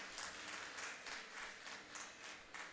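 A small audience applauds at a JCI Tirupur installation awards ceremony, faint and distant clapping that keeps up steadily without voices.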